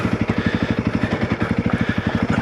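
A Honda CRF300L motorcycle fitted with CB300R camshafts runs with a rapid, even pulsing thump of firing strokes, close and steady.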